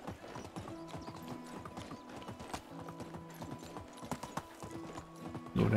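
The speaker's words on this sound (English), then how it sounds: "maybe we can hop on Miss Donkey and ride her back down the hill" A donkey's hooves clop in a steady, quick rhythm while being ridden in the video game Medieval Dynasty, close and fairly quiet over a faint droning game tone, ending in a louder thump.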